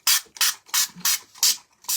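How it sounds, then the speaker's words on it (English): Six quick hissing bursts from a spray bottle spraying water onto a plate, evenly spaced with short pauses between, close and fairly loud. "I'm just going to spray some water in it"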